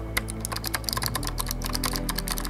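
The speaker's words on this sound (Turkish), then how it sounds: "Bu bir mavi switch'li bir klavye" Fast, crisp clicking of typing on an Ajazz AK832 Pro mechanical keyboard with blue switches, keystrokes rattling in quick, uneven bursts close to the microphone.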